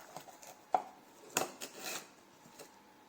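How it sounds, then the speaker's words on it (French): Eggs are cracked one after another against an egg separator, giving soft, faint taps and one sharper crack close by in a quiet kitchen, with small clicks in between. "il me faut 3 jaunes d'œufs, donc je me sers du séparateur et donc on va les couper, les casser pardon, les uns après les autres"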